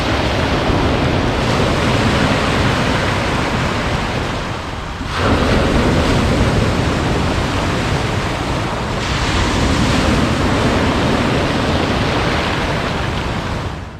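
Surf rolls steadily onto an empty Black Sea beach at Batumi, a loud continuous wash of breaking waves with a brief lull near the middle, no voices present.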